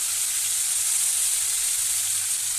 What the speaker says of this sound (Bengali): তেল ভালো করে গরম হয়ে গেছে, একটা দিয়ে দিলাম শুকনো লঙ্কা আর গোটা জিরে